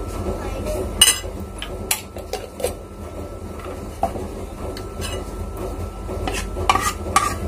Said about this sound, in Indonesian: Bawang putih sama jahe dicampur jadi satu ya.